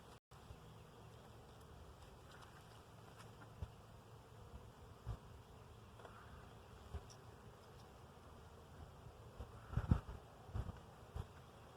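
Honey bees from a large colony drone in a low, steady buzz during a hive inspection, a faint continuous hum with a few louder passes and bumps near the end.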